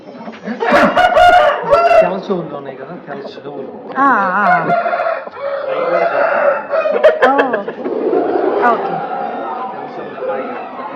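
A fighting rooster of the pandem kodi breed crows repeatedly at close range, with clucking and chatter from other fowl, while people talk nearby.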